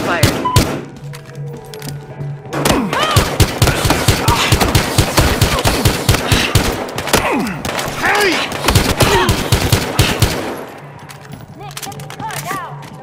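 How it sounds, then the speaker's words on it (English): Loud gunfire from the video game Battlefield Hardline: dense bursts of rapid automatic shots and heavy thuds fill most of the stretch, with game voices speaking over it between volleys. "Multiple shots fired."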